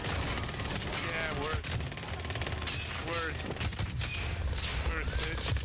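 An MG32 machine gun in Call of Duty Warzone fires in dense, continuous rapid bursts alongside other gunfire, loud and unbroken, with players talking over it.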